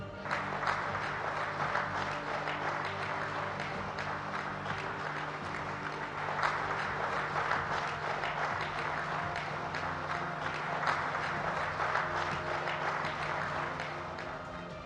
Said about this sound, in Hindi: सभी एनडीए नेताओं ने खड़े होकर तालियों की गूंज के बीच इस प्रस्ताव को मंजूरी दी।